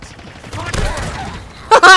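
Gunfire from Halo Infinite in a few broadband bursts of rapid shooting, followed by a loud voice speaking near the end.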